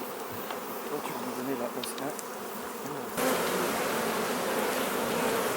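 Honeybees buzz steadily and densely in an open hive during a colony inspection among lavender fields, a continuous close drone that grows slightly louder about halfway through, with no talking.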